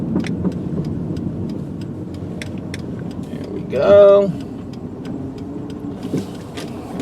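A silver 2005 Chrysler PT Cruiser SE idles and rolls along while turning around, its engine a low steady hum. A short, louder surge of engine noise comes midway, and someone speaks briefly.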